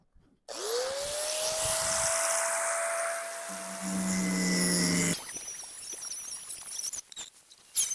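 A power tool cuts a sheet metal floor patch for a 1971 Nova, a loud steady whine with a rising tone that drops into lower grinding and scraping partway through, close by with no talk.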